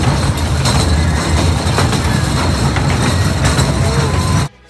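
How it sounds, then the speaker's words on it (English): A miniature train ride at the Travel Town museum in Griffith Park rumbles and clatters steadily at speed, a dense continuous rolling noise that cuts off abruptly at the end. "The train is going faster."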